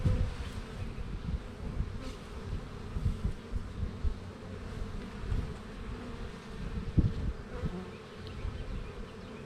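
Honey bees buzz inside a hive while a beekeeper works with brood and food frames. The low, dense hum holds steady and close throughout, with no talk over it.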